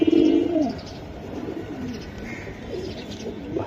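Bezi pigeons coo close by, with a loud burst at the start followed by softer repeated coos over low background noise.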